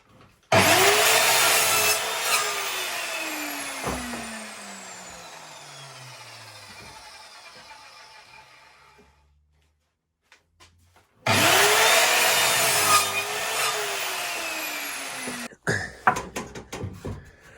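A power saw whines up and bites through timber boards in a long cut, winds down, then a second cut follows, with a few knocks at the end.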